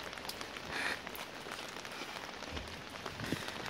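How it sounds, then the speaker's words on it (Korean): Rain falls steadily at Masan Seowongok amusement park, a continuous, fairly close patter with scattered drops and no voices. "비가 오는 상황이에요, 현재."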